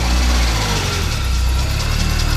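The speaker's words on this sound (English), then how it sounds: "it's that pulley there that you can hear squeaking" A 1995 BMW E36 318i engine runs steadily up close, a noisy drivebelt pulley adding a continuous squeak over the low, even engine hum throughout.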